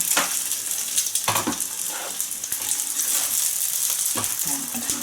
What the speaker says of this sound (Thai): ให้น้ำมันเขาเข้าไปด้านล่างของแป้งนะคะ แป้งจะได้กรอบนะคะ